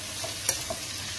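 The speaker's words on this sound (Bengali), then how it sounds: "হালকা ভেজে নেব পেঁয়াজগুলি।" Onions fry lightly in oil with a soft, steady sizzle, and a single stirring clink and scrape cut through near the middle.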